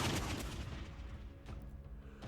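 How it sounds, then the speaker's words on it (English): Rebels fire a thunderous volley of gunfire in the Sir Brante video game, a burst of overlapping booming shots at the start that fades into a rumbling tail, with a couple of fainter reports afterward. "The aged nobleman's last words are drowned out by a thunderous volley of gunfire."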